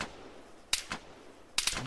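Sharp rifle shots in ARMA 3: a single crack, then a quick follow-up, a pause and a tight burst of several rapid reports at the end, loud and close with no talk over them.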